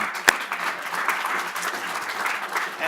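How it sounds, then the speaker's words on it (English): An audience gives a round of applause for Paula Rosen at a keynote event, a steady dense patter of many hands clapping, with one sharp louder clap near the start. "I'd like to have a round of applause for Paula Rosen"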